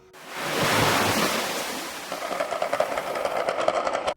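Rushing water surges in with a loud, broad roar that peaks early, then gives way to choppier splashing and churning bursts, all without any voices.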